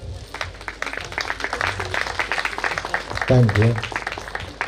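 Crowd applause rises at a wedding felicitation honouring pastors. The clapping is a dense, continuous patter under a voice on a microphone giving thanks.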